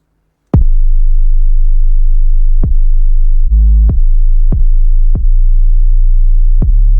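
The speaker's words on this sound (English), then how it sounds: "Here's what the kick sounds like with the 808." In a pluggnb beat, a punchy kick drum and booming 808 bass hit together in a sparse pattern, each strike followed by a long sustained low tone, loud and up front with nothing else playing.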